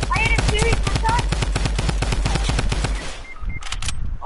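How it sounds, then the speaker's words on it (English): Rapid automatic gunfire from the video game Fortnite rattles in a dense, steady burst that breaks off near the end into a few scattered shots, with brief electronic game tones over it. "I had a series of shots."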